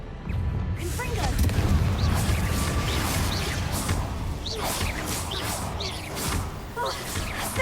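Confringo fire spells cast in a Hogwarts Legacy fight, with repeated whooshing blasts and booming impacts over a steady rumble, and a voice calling out at times.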